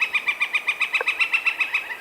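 A northern flicker woodpecker in a northern forest calls with a steady run of about fifteen quick, evenly spaced wick-like notes, clear and moderately close, with no talking.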